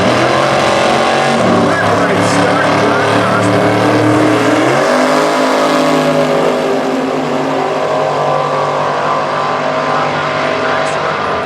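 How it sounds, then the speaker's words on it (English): A 1963 Nova drag racing car at a Super Gas drag racing event roars loudly and continuously, engine pitch rising and shifting as it runs, with an announcer talking over it. "The Cars Protection Plus 63 Nova Black Car National Dragster side."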